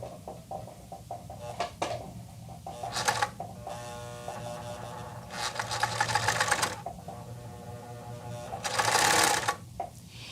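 A blind stitch hemming machine sews a fabric hem in quick bursts of rapid mechanical whirring, stopping and restarting several times, with the loudest run near the end.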